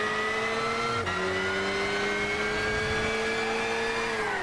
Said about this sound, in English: You can even hear the supercharger